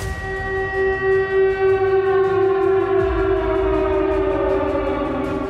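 A Ukrainian air raid siren wails steadily for several seconds, loud and sustained with a slowly wavering pitch, with no voices.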